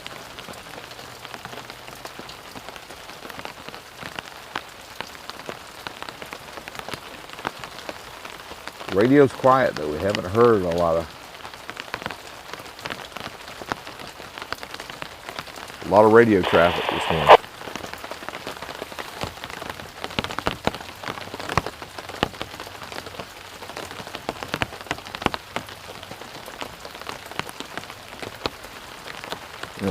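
Rain patters steadily on surfaces outdoors in Baltimore, a constant background hiss under a voice, with two louder bursts of another sound midway.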